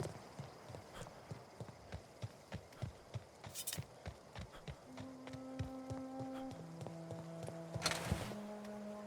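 Footsteps of a horse-like mount in the video game The Outer Worlds, a steady rhythmic clip-clop of hooves, faint and evenly paced, with a soft musical hum and tones rising in the background.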